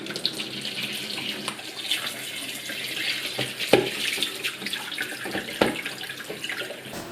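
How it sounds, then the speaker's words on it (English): Cold water runs from a tap as home-cured back bacon is rinsed under it, a steady close splashing stream with a few sharper thuds and splashes as the meat is moved around. "give that a good rinse under the cold tap."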